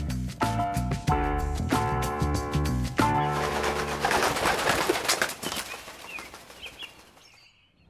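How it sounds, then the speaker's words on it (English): A flock of doves is released at a wedding, wings flapping in a loud burst up close, the fluttering thinning out and fading as the birds fly off. "Dove release."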